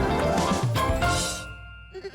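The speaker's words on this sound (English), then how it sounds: "Mountain goats are truly fascinating creatures." A mountain goat lets out a single short bleat, close and fairly loud, which fades away quickly with no talking around it.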